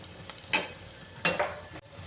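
Tempering spices for sambar sizzling softly in a pan on a low flame, faint and close, with two brief louder bursts of crackle and stirring.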